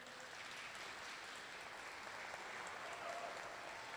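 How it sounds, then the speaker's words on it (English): Sustained applause from a crowd at a Magic: The Gathering Pro Tour event, even and continuous, heard at a moderate distance and fairly quiet. "Your applause please"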